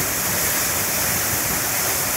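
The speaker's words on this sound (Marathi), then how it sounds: "हे वॉटरफॉल अजून डिसेंबरपर्यंत चालू असतं." Channat waterfall near Mangaon pouring steadily, a dense, loud, unbroken roar of falling water heard close by, with no voices.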